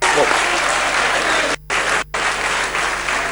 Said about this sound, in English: I also want to applaud Sho Majosi for winning the BET Award.